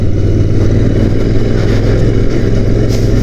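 A 2021 Royal Enfield Interceptor 650 Mark 2 climbs a broken off-road patch on the way to Khardung La, its twin engine thrumming loud and steady with a low pulsing exhaust beat and wind.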